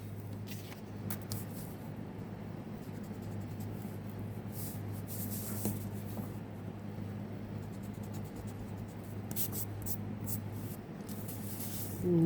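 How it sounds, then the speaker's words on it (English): An eraser rubbing out pencil lines on paper while drawing perspective boxes, a soft, close scratchy scrubbing in repeated strokes over a steady low hum. "I'm going to erase this box that I'm covering here"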